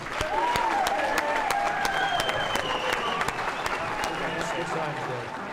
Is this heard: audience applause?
yes